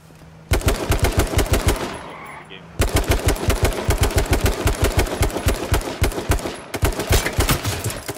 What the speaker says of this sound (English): I just shot this man with 18 shotgun bullets.